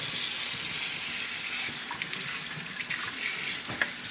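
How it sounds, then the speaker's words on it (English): Hot water runs steadily from a sink tap with a constant hiss, with a few small clinks and bumps. "rinse it out with hot water"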